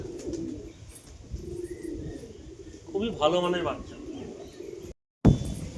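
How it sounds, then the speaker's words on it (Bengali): Fancy pigeons cooing nearby, soft low murmuring calls with a clearer burst of throaty cooing midway, heard beneath someone talking about the birds. "খুবই সুন্দর কোয়ালিটির কবুতর। ফেন্সি কবুতর, এগুলো ওড়া হয় না"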